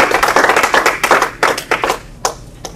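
A comedy club audience clapping and cheering in response to a comedian, with a burst of loud, close, irregular handclaps that thin out into scattered claps toward the end.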